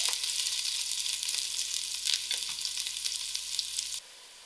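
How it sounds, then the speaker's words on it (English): Onions frying in a pan for kadhi, a dense, close hiss of sizzling that runs unbroken for about four seconds and then cuts off abruptly into near silence. "I'll allow this onions to fry out till it's soft."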